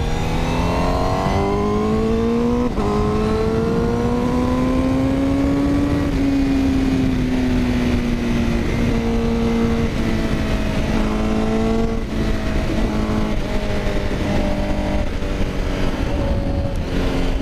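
Honda CBR1000RR-R SP 2020 superbike engine revving loudly and close, pitch rising and falling in repeated swells over a steady drone, with sharp throttle blips and no voices.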